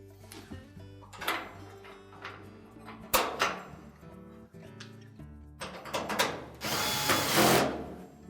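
A power drill drives a 5/16 screw during a Whirlpool dryer idler pulley repair, with short whirring bursts, clicks and handling knocks, ending in a longer, louder sustained run near the end.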